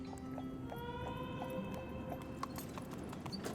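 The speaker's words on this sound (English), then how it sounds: "From the steady clip-clop of a horse and buggy" Amish horse and buggy passing in Shipshewana, Indiana, with a steady rhythmic clip-clop of hooves on pavement, moderately close and faint, alongside light outdoor ambience and a brief whining tone.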